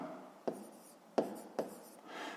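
Pen strokes writing out the working of a fifth-grade math exercise on paper, three short scratchy bursts close by with quiet pauses between, no talking.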